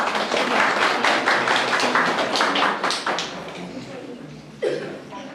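Audience applause for award winners at a children's reading contest and Librarians' Day event in a Sieroszewice library: a dense burst of clapping that fills the room, then thins out, with a voice near the end.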